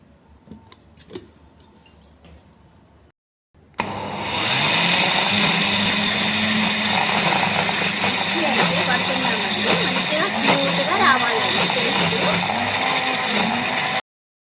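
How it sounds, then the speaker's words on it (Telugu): A mixer grinder blends leftover rice and water into dosa batter, starting abruptly after a few quiet clinks and running as a loud, steady whirring roar for about ten seconds before cutting off. "ఇప్పుడు దీన్ని మిక్సీ పట్టాలి."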